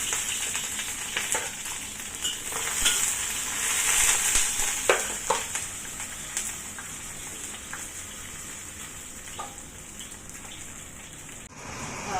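Onions sauté in a pot as the base for cooking pork thigh, giving a continuous crackling sizzle with scattered pops and spits. The sound carries on alone, with no talk.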